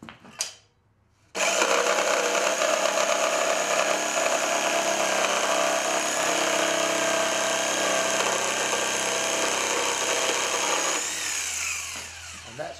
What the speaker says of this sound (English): take my set square, mark it across here, pick up the jigsaw